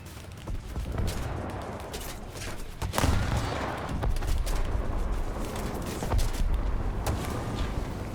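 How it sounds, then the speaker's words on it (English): Torpedo launches from a torpedo plane in an arcade naval combat game against a heavy cruiser. Dense rumbling thumps and blasts repeat steadily at moderate loudness, with no talk. "Fire torpedoes!"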